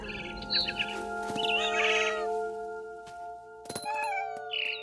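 A few short cat meows mixed with high bird chirps and clinking tones over a steady electronic hum, fairly faint overall, from the video game What Remains of Edith Finch.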